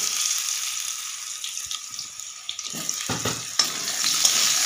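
Potatoes hiss and sizzle in hot oil with dried red chilli, whole cumin and bay leaf, a steady close frying sound with a few stirring scrapes and bumps toward the end.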